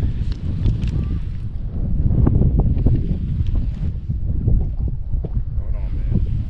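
Wind buffets the microphone on a fishing boat drifting on an Oklahoma or Texas lake in April, a constant low rumbling roar with water sloshing and knocks against the hull throughout.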